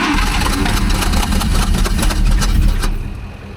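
An old Allis Chalmers forklift engine runs roughly close by, with a loud uneven chugging that sounds like misfiring, before it fades near the end.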